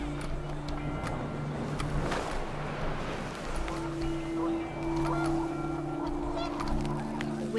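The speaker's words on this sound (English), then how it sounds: "The wind picked up, and panicked geese appeared and quickly went." Panicked geese honk in What Remains of Edith Finch, their calls rising over wind and ambient game sound, with overlapping honks clustered early and a steady tonal music bed underneath.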